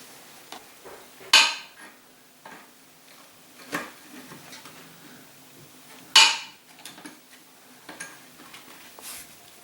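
Unscrewing the nut from a toilet closet bolt holding down the base, heard as scattered light metallic clicks and ticks with two sharper clanks, close and fairly quiet, no talking.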